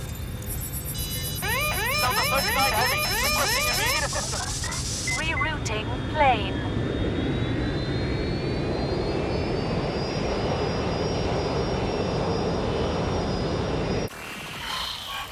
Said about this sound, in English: Plane should be landing in a few hours